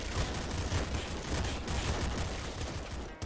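Dense, continuous rapid-fire weapon shots from the video game Nuclear Throne, loud and unbroken for several seconds with no talk over them.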